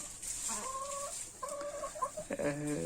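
Several chickens cluck and croon nearby in a henhouse in winter, in short, drawn-out calls, one after another over a quiet background.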